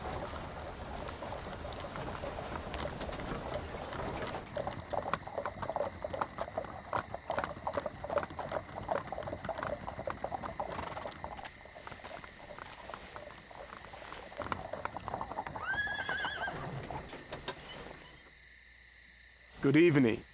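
Rapid clip-clop of horses trotting on a hard road pulling a stagecoach, with creaking and rattling, a voice speaking briefly, and high whistling tones near the end.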